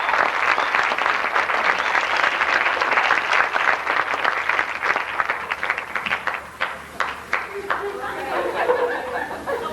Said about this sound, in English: A nice round of applause for the Burnt Stones.